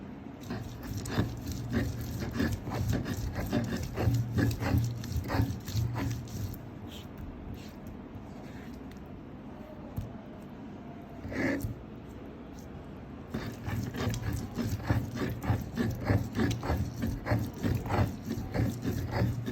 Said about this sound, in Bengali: আমু রান্না করার জন্য মশলা বেটে নিচ্ছে পাটায়, শিল পাটায় বাটার মশলা স্বাদই আলাদা।